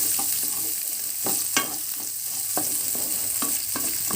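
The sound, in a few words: shallots and garlic frying in vegetable oil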